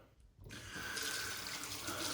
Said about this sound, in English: I can still add a bit more water, so I'm gonna.